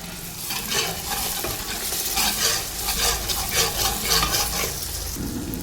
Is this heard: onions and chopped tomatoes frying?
yes